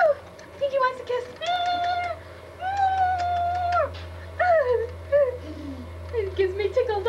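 A giant cat meows repeatedly in long, drawn-out, wavering cries, close and fairly loud over a constant low hum.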